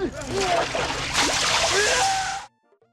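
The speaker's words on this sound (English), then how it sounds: "While shooting Foxy with a water gun" Water gun squirting at the Foxy animatronic in a Five Nights at Freddy's fan video game: a steady hissing, splashy spray of about two and a half seconds with voice-like tones mixed in, cutting off abruptly into near silence.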